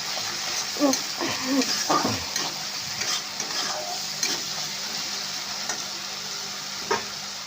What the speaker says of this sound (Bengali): দিয়ে এইটা ভালো করে নাড়াচাড়া করে ভেজে নেব